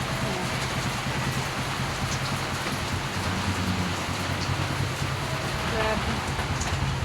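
Heavy rain pours at night outdoors during river flooding, a dense constant hiss of drops hitting surfaces, steady and close throughout with faint low rumble beneath and no clear talk.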